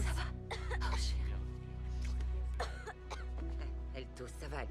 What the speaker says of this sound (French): Elle tousse, ça va aller maintenant, c'est fini